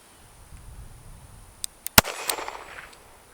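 Shots from a Smith & Wesson 432 revolver firing .32 S&W Long rounds at a range: a few sharp, close reports, one much louder crack, each trailing into a brief echo.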